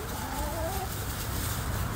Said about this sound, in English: here's my chickens with their fresh leaves from the mower bag